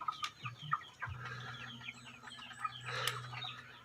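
Chickens in a backyard coop clucking and chirping close by, several birds calling over a low steady hum.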